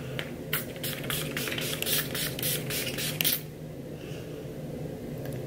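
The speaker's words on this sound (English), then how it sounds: "I have this little tiny Urban Decay All Nighter makeup setting spray" Several short bursts of Urban Decay All Nighter makeup setting spray hiss from a small sample bottle, close and fairly loud, pulsing in quick succession before stopping abruptly, leaving a quiet background hum.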